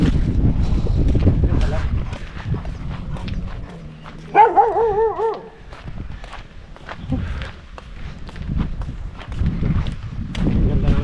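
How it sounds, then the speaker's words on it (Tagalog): A dog barks a few times in a short burst midway, under nearby chatter and shuffling footsteps outdoors in a forest in Hungary. "May aso na naman oh."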